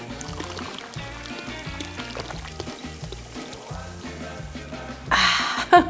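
Ice-cold beer pours into a glass beside pan-fried Korean fried chicken, a short fizzing rush near the end over background music.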